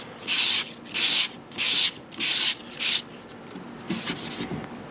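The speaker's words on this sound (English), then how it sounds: "if you take some sandpaper and do this" Sandpaper rubbing back and forth over a grain-filled wood finish, five even, brisk strokes with short pauses, then a softer, rougher scrubbing pass, close and alone.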